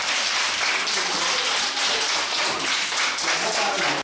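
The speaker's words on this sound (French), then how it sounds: "Une volée d'applaudissements s'ensuivit." Villagers and children at a school in a Bijagos island village, Guinea-Bissau, applaud in a dense, steady burst of clapping that fills the whole stretch and cuts off sharply at the end.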